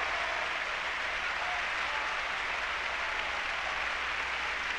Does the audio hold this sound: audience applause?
yes